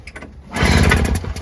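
A Toro CCR2000 snowblower's small engine, on choke and unprimed, is pull-started once, giving a brief loud rattling crank that sputters without catching.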